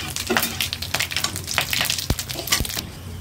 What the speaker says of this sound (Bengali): আর গোলমরিচগুলো ফাটিয়ে নিলাম।